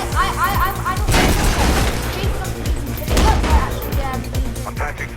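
Video game gunfire in Mirror's Edge, a loud, busy spread of repeated shots and bursts with booming impacts, with game voices underneath.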